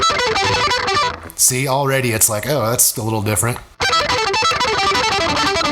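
A distorted electric guitar plays a fast picked barring lick in a lesson setting, with bursts of driven notes at the start and end and someone talking briefly in between.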